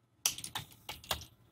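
A computer keyboard is typed on while coding a Unity video game, four quick, soft keystroke clicks close by in quiet surroundings.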